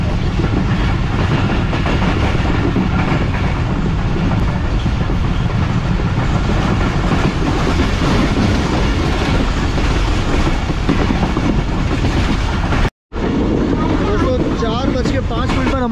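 Rehman Baba Express passenger train running on rails between Karachi and Bahawalpur, a steady loud rumble and rattle throughout, broken by a brief cut near the end.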